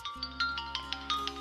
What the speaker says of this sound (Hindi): तुम्हारा फोन रिंग कर रहा है।